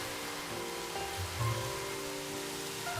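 Steady rain falls in a Minecraft-style crafting game world, a continuous soft hiss with faint tonal game ambience underneath and no voices.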